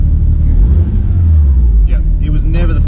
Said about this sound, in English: Just give it a rev with the clutch in.